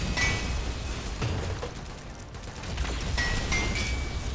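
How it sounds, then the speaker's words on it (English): Synthetik 2 gameplay combat with a grenade blast and gunfire, a dense rumbling burst of crackles and booms, dipping briefly midway and swelling again, with no speech. "Throw a grenade there."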